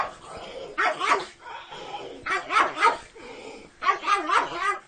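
A dog barks and yips in three clustered bursts of several barks each, close and fairly loud, with short pauses between the bursts.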